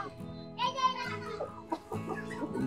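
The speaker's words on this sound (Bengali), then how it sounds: "বড় বড় মুরগি অনেক।" Large chickens cluck in a village poultry shed on a cold winter day, short clucks scattered among nearby voices talking.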